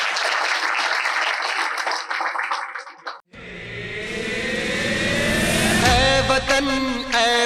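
Loud, continuous applause and cheering from a school audience at a Republic Day celebration, cheering students performing a pyramid dance, following a brief stretch of louder mixed crowd noise and swelling into music near the end.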